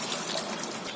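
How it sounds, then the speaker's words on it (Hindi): A cup of water poured into spiced mutton handi kabab masala in a cooking pot, a steady close gushing splash lasting about a second with no talking. "सारे मसाले जब अच्छी तरह भून जाएं तो इसमें डालेंगे हम 1 कप पानी।"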